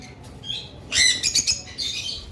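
Lovebirds in a bird shop give bright, high chirps and tweets in quick clusters, with a dense burst of overlapping calls in the middle. The birds sound close, against a low background hum.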